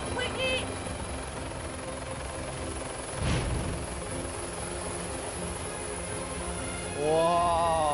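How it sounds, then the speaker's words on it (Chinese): A helicopter passes overhead with a steady droning rotor and engine wash, swelling briefly midway, as excited voices shout at the end. "哇！ 飞机！ 飞机！"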